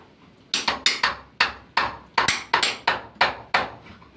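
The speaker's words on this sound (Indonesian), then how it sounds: "Saya menggunakan pahat ukir." Carving chisel struck with a hammer into wooden door framing, about a dozen sharp, close knocks in a quick irregular rhythm with no talk.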